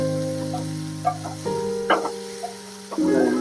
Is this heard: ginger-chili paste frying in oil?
yes